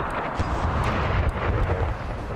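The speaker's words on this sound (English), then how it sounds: "So yeah, cannon fire coming in." Artillery cannon fire rumbles through a Napoleonic Total War 3 mod multiplayer battle, a dense, continuous low roar of distant and overlapping booms with no clear single shot standing out.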